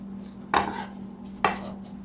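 Two sharp knife chops against a cutting board, about a second apart, while butterflying the last beef tenderloin steaks, over a steady hum.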